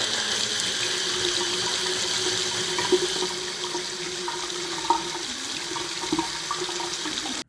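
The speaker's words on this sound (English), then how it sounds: "That's air coming out of the line" Air and water sputtering out of a freshly reconnected household water line after a water heater install, a steady rushing flow broken by small irregular spits and gurgles, close and without talk.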